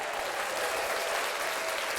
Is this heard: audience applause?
yes